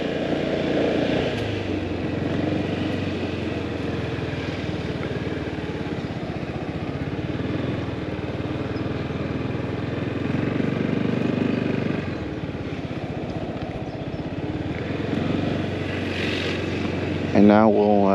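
Motorcycle ridden by a learner practicing on an empty road, going up and turning around; a steady engine drone runs throughout at moderate level with slight swells, and a brief voice near the end.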